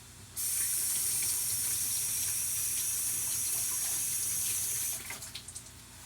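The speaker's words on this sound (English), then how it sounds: "first of all I'm going to rinse my potatoes." Potatoes are rinsed under a running kitchen tap: a steady, loud gush of water starts abruptly, flows continuously for several seconds, then cuts off, leaving a few faint drips and splashes.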